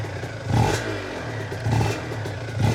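A 140cc Aprilia RS125 two-stroke motorcycle engine revs hard three times as the throttle is ripped open, each rising blare falling back to a rattling idle, loud and close.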